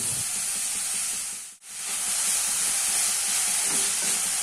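Chopped fenugreek leaves sautéing in a hot pan, a steady close sizzle with stirring scrapes that drops out briefly mid-way and then resumes.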